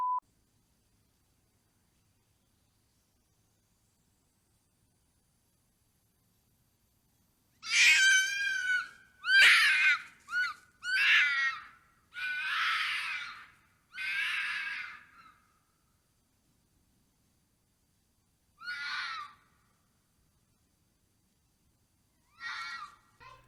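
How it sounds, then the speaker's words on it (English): A female fox screams in a run of harsh, wailing, cat-like cries, several closely spaced bursts followed after a pause by two shorter, isolated calls, clear against a silent background. "A female fox scream."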